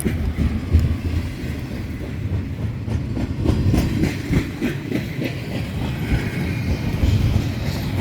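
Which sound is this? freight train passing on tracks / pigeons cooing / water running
freight train passing on tracks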